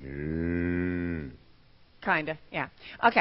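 A person voices a long, steady cow-like moo imitation, loud and close, as part of a storytelling exercise, followed by brief talk.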